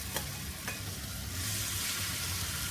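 Potatoes tipped into a pan of frying onion and tomato, giving a couple of quick impact clicks and then a bright hissing sizzle that swells and holds, close and steady.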